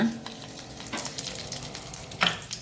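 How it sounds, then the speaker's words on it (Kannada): Crushed garlic, five or six cloves, hits hot coconut oil for a Mangalorean cauliflower sukka and sizzles loudly and steadily, with a brighter burst of crackle near the end. "ತೆಂಗಿನ ಎಣ್ಣೆ ಬಿಸಿ ಆಗುವಾಗ ಇಲ್ಲಿ ನೋಡಿ ಜಜ್ಜಿಟ್ಟಂತಹ 5-6 ಬೆಳ್ಳುಳ್ಳಿಗಳನ್ನು ಹಾಕ್ಕೊಳ್ಳೋಣ"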